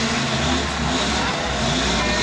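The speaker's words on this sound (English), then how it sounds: "You can hear the motors revving." Demolition derby car engines rev together at a large exhibition arena, forming a dense, loud, continuous roar with no pauses.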